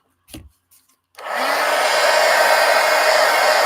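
A hair dryer blows on wet paint in a mixed media art journal. A few light taps come first, then the dryer switches on and roars loud and steady, close by.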